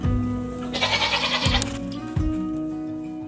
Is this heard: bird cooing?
no